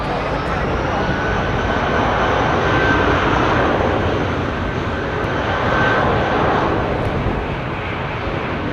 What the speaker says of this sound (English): I need to see where that United 767 is taxiing to.